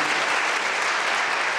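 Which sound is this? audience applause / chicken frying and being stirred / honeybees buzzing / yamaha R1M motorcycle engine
audience applause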